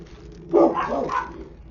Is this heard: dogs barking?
yes